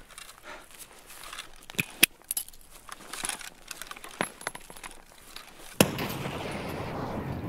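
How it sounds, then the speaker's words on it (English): A grenade goes off in Escape From Tarkov: a sharp, fairly loud blast near the end follows scattered quieter clicks and thumps, and a rumbling wash of noise lingers afterwards. "Dude, your nade blew up perfect"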